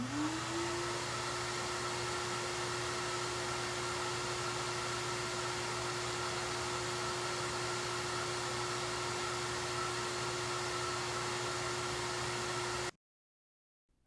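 A Dewalt DXV10P shop vac running with its muffler fitted, spinning up at the start into a steady, loud, unbroken whining drone with a constant tone, then switching off sharply near the end.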